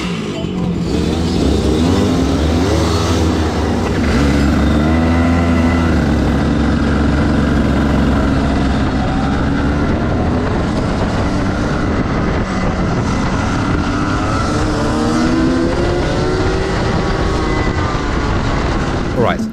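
A racing kart's freshly rebuilt engine on a wet track drones loudly and steadily throughout, with its pitch rising and falling as it revs. Muffled voices are mixed in underneath.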